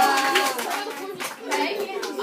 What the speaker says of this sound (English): So first of all, give yourselves a round of applause.